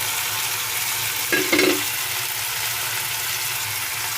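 Ginger-garlic paste and green chilies fry in a hot pan with a loud, steady sizzling hiss close by and a brief stirring scrape partway through.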